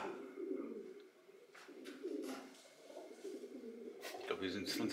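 Pigeons cooing inside an abandoned church, soft repeated low coos at close range, with quiet rustling and bursts of wing flutter, while people talk.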